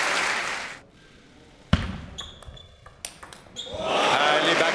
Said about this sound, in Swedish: Härlig backhand.